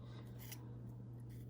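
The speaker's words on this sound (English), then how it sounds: "We take our precision scissors, we make our slight cut towards the center in between the two larger petals" Precision scissors snip paper flower petals, giving a few faint, close-up cuts and rustles over a low steady hum.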